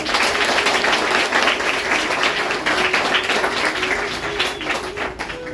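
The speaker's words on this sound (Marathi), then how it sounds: "आपण आपल्यासाठी एकदा आपलं मोठ्याने टाळ्या वाजवून स्वागत करू" Sustained audience applause at a school supplies charity event held by a cultural arts organization, steady and dense throughout with a faint tonal hum underneath, no speech.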